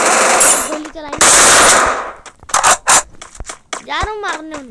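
Rapid bursts of automatic gunfire crackle in a 1v1 lone wolf mobile shooter match, loud and sharp, broken by short gaps, with excited talking over and between the shots.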